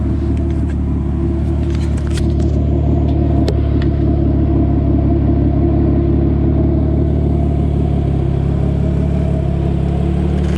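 2JZ-engined Nissan S13 with a budget custom exhaust idles with a deep, steady rumble close by, a low droning burble that continues evenly with light ticks near the start.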